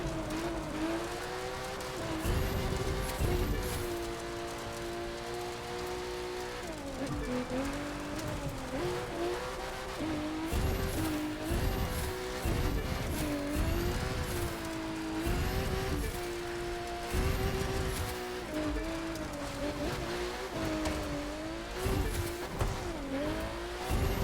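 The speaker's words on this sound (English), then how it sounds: "Wheel spinning like crazy." A car in a The Crew 2 street race spins its wheels and squeals its tires, with an engine revving and rising and falling under repeated sharp skids and screeches that run throughout.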